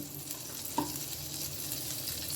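A small knob of butter sizzles in a frying pan on a gas stove, a soft, steady hiss with one brief tap of a utensil, close and fairly quiet.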